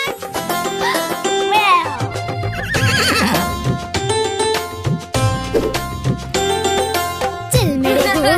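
Horse neighing and whinnying inside a children's cartoon song, with sung vocals and bouncy music playing loudly throughout, with clip-clop hoofbeat effects mixed into the dense arrangement.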